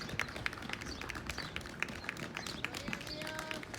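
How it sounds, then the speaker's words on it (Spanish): Church congregation at a Sunday service clapping, a scattered run of sharp, fairly faint handclaps spread across the room, with some quiet talk in the background. "denle fuerte ese aplauso al Señor"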